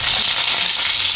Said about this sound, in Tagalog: Mainit na po yung ating mantika. Salang na po natin yung ating mga isda.